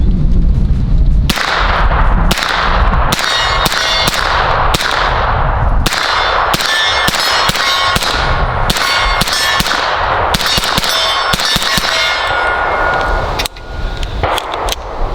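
Shots from a NEMO Mongoose pistol-caliber carbine crack one after another at an irregular pace, each followed by a bright metallic ring, loud and close throughout.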